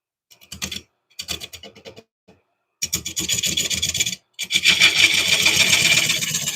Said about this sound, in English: we'll just sand that out and just make it part of the interest of the wood